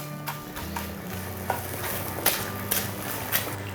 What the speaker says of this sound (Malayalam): ഇതൊന്ന് മിക്സാക്കാം. ചെറുതായിട്ടൊന്ന് ഉടച്ചൂടെ കൊടുക്കാം.